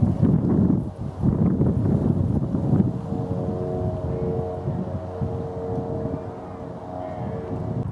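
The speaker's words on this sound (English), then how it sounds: "Wind's picking up as well, as you can probably hear." Low, blustery wind rumbles and buffets the microphone continuously, strongest at first and then settling into a steadier roar.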